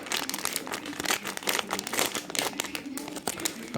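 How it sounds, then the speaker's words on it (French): Plastic packet holding a vintage Cosmix toy figurine being torn open, a close, continuous crinkling and rustling with sharper crackles throughout, no voices over it. "On va ouvrir hop, le paquet rose."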